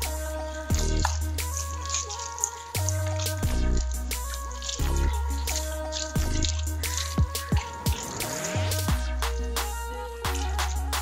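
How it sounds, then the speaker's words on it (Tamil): A dog being bathed with water, with steady dripping and splashing liquid sounds alongside repeated low thumps and squishy handling noises throughout, close up and without talk. "ஸோ சாப்பிட்டு முடிச்சுட்டு இப்போ திரும்பி குளிப்பாட்டி விடலாம்"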